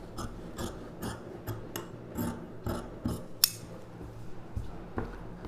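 Scissors snip through blouse fabric along a marked line, a series of short, close crisp cuts in a steady rhythm with a sharp click partway through, alone without talk.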